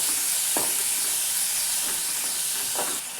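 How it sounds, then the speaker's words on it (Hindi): Green chillies fry with fenugreek seeds in a pan, giving a steady close hiss of sizzling oil with a few brief stirring scrapes, continuous throughout without any voice. "अब हमें हरी मिर्च को चलाते हुए थोड़ी देर के लिए भून लेना है"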